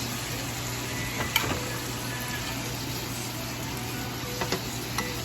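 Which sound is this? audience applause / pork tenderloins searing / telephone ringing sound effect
pork tenderloins searing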